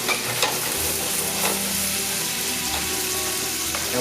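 Carrots seasoned with cracked black pepper sauté in a hot pan, giving a close, continuous sizzle broken by stirring scrapes and spatula knocks, with no voices.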